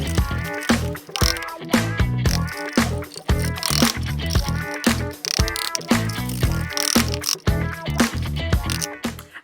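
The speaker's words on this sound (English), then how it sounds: "now I just need to scrape it off the bottom of this bin" Dried algae fertilizer is scraped off the bottom of a bin in close, rhythmic strokes, each a loud rough rasp with crackling flakes, repeating about once a second with no talking.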